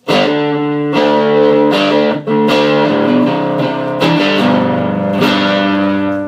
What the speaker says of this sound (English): as you can hear on this guitar, even with single coils, it's got actual distortion